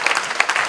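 A church congregation applauds for Jesus in a short, dense burst of clapping, loud and close, with no voices heard over it.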